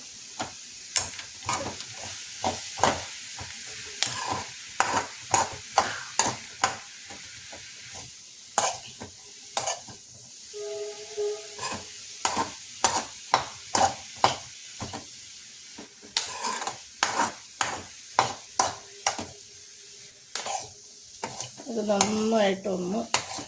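A spoon scrapes and clinks rhythmically against a pan as food fries with a soft sizzle underneath, close and steady, with a brief voice partway through.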